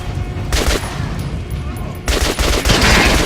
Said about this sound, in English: Let's test the AK. Try shooting for the center of the regular dummy's chest.